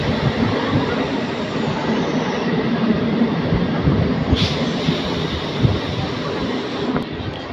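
Kakinada–Vijayawada MEMU express train leaving Dwarapudi station, heard from inside a carriage: a dense, steady rumble of wheels on track with light clattering and a brief metallic screech near the end.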